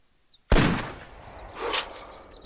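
A single rifle shot at an animal in the hunting game theHunter, a sudden loud crack fading out over about a second, followed by a fainter second burst, with no speech.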